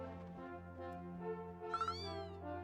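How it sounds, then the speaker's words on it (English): A cat meows in the video game Dragon Quest X, with a bright rising-and-falling meow near the end over a sustained musical backdrop, fairly soft overall. "Meow."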